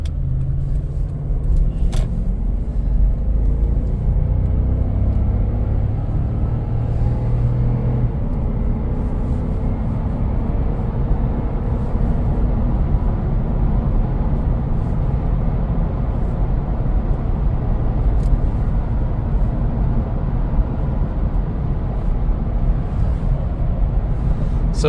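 A Toyota Land Cruiser 200 series / Lexus LX570 cruising on the road gives a steady low cabin rumble with soft engine and road noise, fairly quiet and unchanging throughout.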